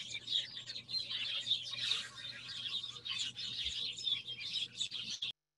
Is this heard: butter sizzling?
no